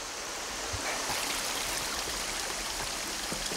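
A Kentucky creek flows and burbles steadily nearby, a continuous rushing hiss with a few soft splashes, no voices.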